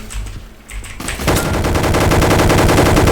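Rapid automatic gunfire from Roblox Gunfight Arena, a loud, dense stream of shots starting about a second in and continuing steadily to the end after a quieter opening.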